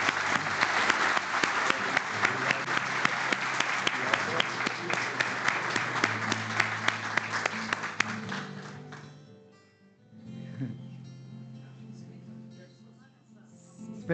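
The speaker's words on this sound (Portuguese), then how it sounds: "Podemos aplaudir, por favor?" Sustained applause fills a general assembly hall, dense clapping for about eight seconds before thinning out into scattered claps and murmuring voices.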